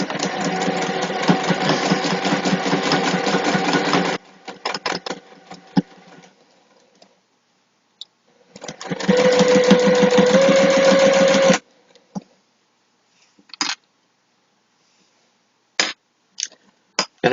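A sewing machine stitches a quarter-inch seam on a clutch wallet in two loud, steady bursts of rapid whirring, separated by a pause with scattered faint clicks and handling taps afterward.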